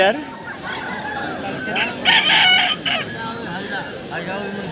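A desi rooster crows at the Balarampur chicken market in Purulia, one loud harmonic crow rising over a busy crowd, with people talking nearby and other fowl clucking.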